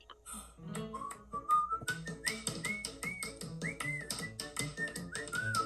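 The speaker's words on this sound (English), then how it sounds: "They're all gonna whistle along." Cartoon characters from Steamboat Willie whistle a lilting, bouncy melody along to a silly song, steady musical whistling with rising and falling notes over light accompaniment.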